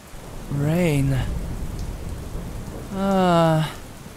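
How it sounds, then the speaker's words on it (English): Steady rain hisses throughout, with two drawn-out tonal vocal cries rising over it, one early and one near the end. "Rain."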